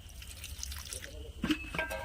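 Water added to an aloo matar chaat mixture, a brief close trickle and a few small splashes and drips in a kitchen, faint under light background noise.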